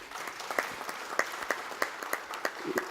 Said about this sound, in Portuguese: Uma salva de palmas também.